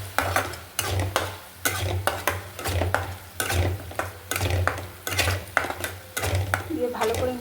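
Ground spices, turmeric, cumin, chilli and coriander, stirred into a cooking pan with a metal spoon: repeated scraping strokes against the pan in a steady rhythm, close and fairly loud, with a faint sizzle beneath.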